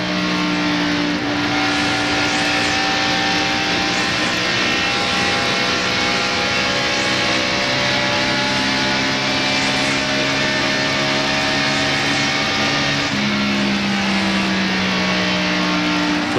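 Stock cars in the 1996 NASCAR Winston Cup Napa 500 roar around Atlanta Motor Speedway, a loud continuous engine drone with sustained tones and slow pitch swells as the pack passes, no voices over it.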